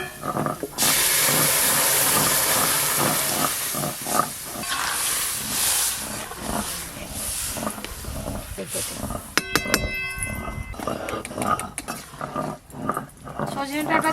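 Hot tempering hits lentil dal cooked with moringa drumsticks in a home kitchen, sending up a sudden loud steamy hiss that sizzles on with clinks of utensils while people talk nearby.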